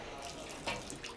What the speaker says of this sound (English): Just a little dribble of water.